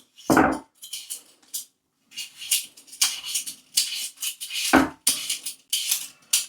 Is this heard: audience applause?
no